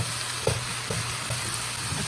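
Squash sautés in a pan with a steady, dense sizzle throughout, close up, broken by a few soft stirring scrapes.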